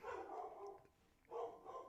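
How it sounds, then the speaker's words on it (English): A dog barks in two bursts somewhere in a home where people are gathering to watch a basketball game, with a quiet gap between the barks. "Sorry if y'all heard my dog barking."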